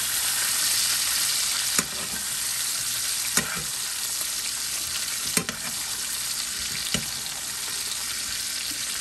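Steaks sizzle steadily in a frying pan with garlic and thyme as they are basted, a dense continuous fry broken by a few sharp spoon clinks and spatters, close and loud with no talking.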